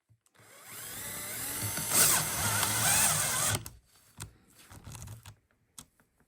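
Drill whirring for a couple of seconds as it drives a self-drilling screw through a size 0 conduit hanger onto 1-inch EMT, followed by a few brief scraping and clicking handling noises.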